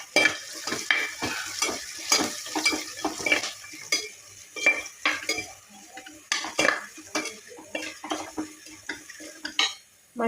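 Ginger, garlic, green chilli, curry leaves and turmeric frying in a pan for a Kerala fish curry, with a low sizzle under frequent loud clanks and scrapes of a metal spoon stirring against the pan.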